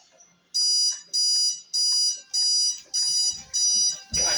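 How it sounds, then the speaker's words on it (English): An alarm clock goes off with a loud, shrill electronic beeping in seven evenly spaced bursts, each about half a second long, heard alone and close. "Goddamn alarm clock's going off."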